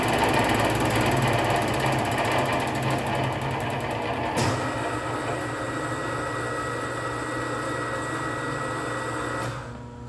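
A metal beading machine with its spindle spinning runs at a steady close mechanical whir and rattle while forming a pass on sheet metal. Partway through there is a sharp knock, and the hum then tails off near the end.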